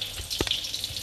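Rice vermicelli fries with sambal in a hot pan, a brief burst of sizzling and crackling with a stirring scrape partway through.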